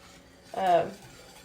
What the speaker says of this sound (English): And you have to stir this about all the time.